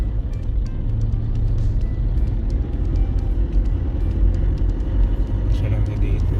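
Vehicles climb steep mountain roads near Baguio City in La Trinidad, Benguet, giving a steady, loud low engine rumble close by while a person talks over it.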